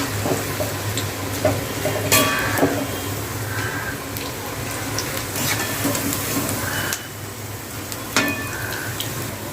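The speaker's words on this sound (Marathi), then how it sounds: "तेल सोडल्यानंतर आपल्याला चांगलं असं फ्राय करून घ्यायचं आहे." Spinach pakoras deep frying in hot oil, a steady hiss and crackle with occasional stirring clinks, continuous throughout at moderate level with no voices.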